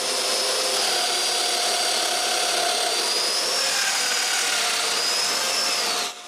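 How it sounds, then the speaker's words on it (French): A power tool, a domino joiner cutting mortises into a wooden frame in a workshop, whines loudly and steadily at close range for about six seconds, its pitch shifting slightly as it bites, before spinning down at the end. "je marque l'endroit où je vais percer des mortaises pour mettre des dominos entre les cadres principaux et les petits cadres"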